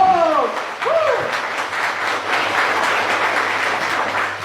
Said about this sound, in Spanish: Otro aplauso para el Espíritu Santo.